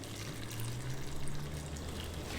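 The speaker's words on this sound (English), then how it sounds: "now we're going to pour the hot brine over the sliced banana peppers." Hot pickling brine is poured from a container over sliced banana peppers in a jar, making a continuous close, splashing liquid stream with a gurgling fill and no talk.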